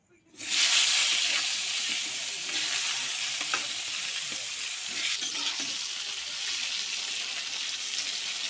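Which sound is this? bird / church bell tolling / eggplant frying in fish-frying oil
eggplant frying in fish-frying oil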